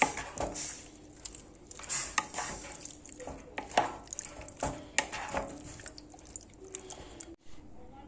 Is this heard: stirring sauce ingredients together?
yes